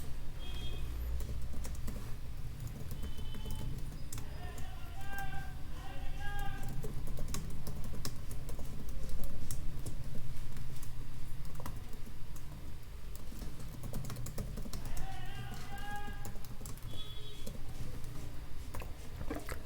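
Steady, rapid keystrokes on a computer keyboard while code is entered, with continuous close clicking under low background hum and occasional faint tones.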